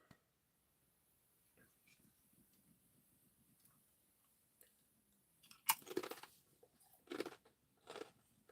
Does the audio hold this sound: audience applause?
no